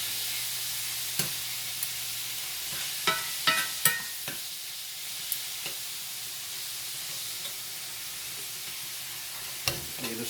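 A potato and hamburger casserole hisses softly in a sizzling pan as a utensil stirs it, with scattered scrapes and clacks against the pan.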